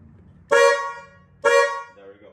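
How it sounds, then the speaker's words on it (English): A car horn sounds after a steering wheel repair, giving two loud, close honks about a second apart and a shorter, fainter toot at the end, all in a quiet setting. "we do have to test that out to make sure that the honk actually works"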